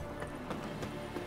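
Horse hooves clip-clop in The Witcher 3 video game, four or five soft, evenly spaced beats, faint under a steady background hum.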